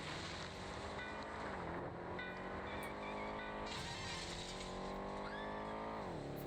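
A Mustang in the Midtown Madness racing game revs and turns, its engine tone sliding up and down with bursts of tire squeal and skidding as it corners.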